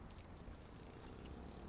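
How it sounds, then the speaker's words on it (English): Car keys jangle at the trunk of a 1957 Mercury Monterey, a faint metallic clinking close to the microphone for about two seconds, with no speech. "I got the keys here already set up."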